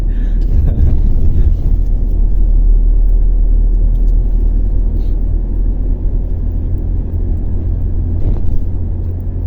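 A pickup truck rolls downhill on a mountain road between Muang Ta Oy and Muang Tum Lan in Salavan, Laos, with a constant low rumble of engine and tyres, punctuated by faint bumps and rattles.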